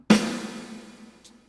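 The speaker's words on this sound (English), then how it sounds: "One of them is the use of reverb on the snare" A single snare drum hit drenched in 1980s-style reverb: one sharp crack followed by a long, washy tail that fades over about a second, heard alone.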